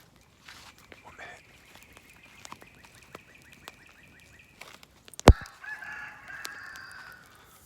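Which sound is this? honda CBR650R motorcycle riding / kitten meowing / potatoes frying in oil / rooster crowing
rooster crowing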